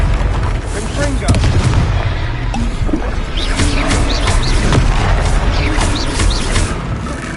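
A Confringo blasting spell explodes in Hogwarts Legacy combat, with loud rumbling booms over dense game effects and music, and a voice shouting.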